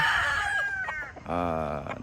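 Gamefowl crowing and clucking close by at a game farm, a rooster's drawn-out call standing out against farmyard background noise.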